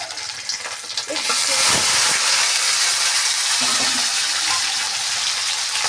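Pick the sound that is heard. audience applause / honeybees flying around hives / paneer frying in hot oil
paneer frying in hot oil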